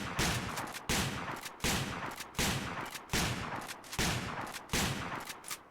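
Mossberg 590A1 pump shotgun firing in a video game, seven loud booming shots at a steady rhythm of roughly one per 0.75 seconds, each blast followed by a brief decaying tail, close and alone with no talking.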